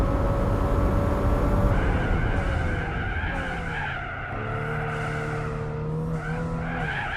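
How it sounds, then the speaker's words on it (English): Nissan Skyline R34 V-spec in Gran Turismo 4 at Fuji, its engine droning loud and steady with shifting pitch as the tires skid and squeal through corners, no talking over it. "Yeah, it's got a V-spec engine. I can hear it."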